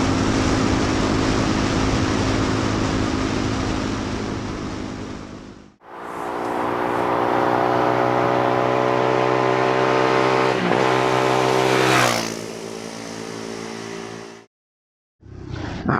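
A Bullit Hero 250 motorcycle is ridden, its engine droning loudly and close, cutting off briefly at each gear change before climbing again, with wind roar over the top and a short silence near the end.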